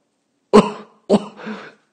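Two short, dry coughs close up, the second trailing into a throaty rasp, with silence before and after.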